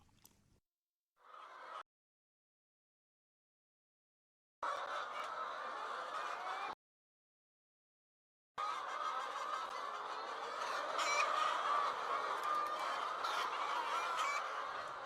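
Laying hens in a round poultry barn cluck and squawk in a busy flock chorus that comes in bursts and cuts off abruptly between stretches of silence.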